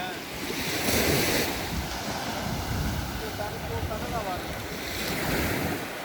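Sea waves wash against the shore during surf casting fishing, a loud, steady roar of surf with wind buffeting the microphone.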